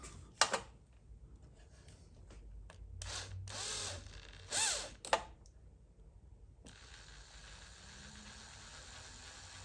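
A drill with a 1.5mm bit works on a Volvo 2.4 D5 diesel engine, giving short broadband whirring bursts of varying length, then a steady hiss-like drone through the second half, quiet and close.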